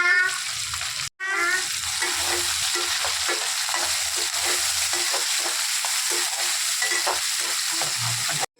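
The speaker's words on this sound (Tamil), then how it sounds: "நல்லா வெங்காயம் வதக்கிற வரைக்கும் நல்லா மிக்ஸ் பண்ணிக்கலாம்." Onions and curry leaves with fenugreek seeds frying in hot oil in a pan, a loud steady sizzle broken by a brief pause, with regular scraping strokes of a spoon stirring throughout.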